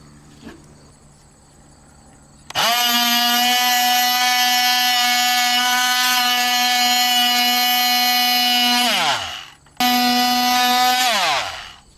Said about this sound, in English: Let's go ahead and get the scraping.